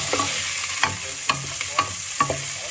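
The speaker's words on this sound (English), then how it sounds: "let it roast for a shallow fry for 2 minutes" Chopped garlic and onion shallow-frying in a pan on medium heat for a sambar, with a steady soft sizzle and several short, sharp stirring scrapes at irregular intervals, close and fairly quiet.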